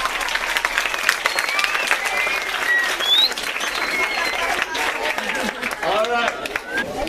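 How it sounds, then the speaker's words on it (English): A church congregation applauds itself in a loud, dense round of clapping with cheers and excited voices mixed in, steady and close throughout. "Give yourself a round of applause."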